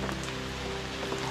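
Rain falling in the Amazon jungle, a steady dense patter on surfaces nearby, continuous and fairly loud with no voices.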